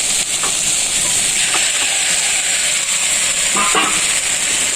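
Ground mustard paste dropped into a hot pan while cooking shukto, giving a steady loud sizzling hiss with faint stirring scrapes underneath, no talking.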